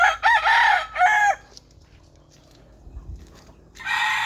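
Gilmore Hatch gamefowl roosters with white hackles crow loudly and close, two strained calls back to back, then a quiet gap with faint farmyard noise before another crow begins.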